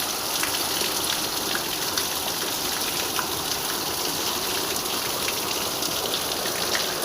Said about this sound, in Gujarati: ગજબનો ભાઈ ધોધમાર વરસાદ આવે છે